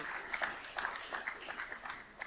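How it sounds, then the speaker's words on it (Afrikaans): A church congregation at a Sunday service claps for the people in front, giving moderate, uneven applause with individual claps standing out and light murmuring mixed in. "Kom ons gee vir hulle groot hande klap"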